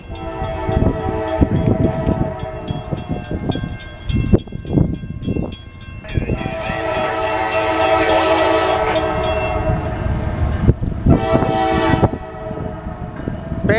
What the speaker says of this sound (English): We got a baretable train here.